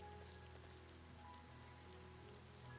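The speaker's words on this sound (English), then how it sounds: "It's raining" Rain falls in the Ova Magica video game as a soft, steady patter and hiss, faint and even throughout.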